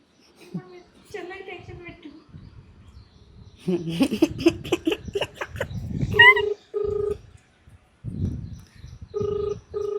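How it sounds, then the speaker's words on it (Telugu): A mobile phone places a call: short electronic tones, then repeated ringback beeps in even bursts, with a person talking over parts of the sequence. "చిన్న మా చెల్లికి ఫోన్ చేస్తున్నాను."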